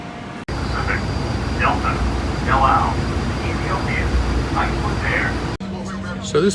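Steady low engine drone fills a full passenger airplane cabin, a constant close roar with people talking over it throughout, and a brief break near the end.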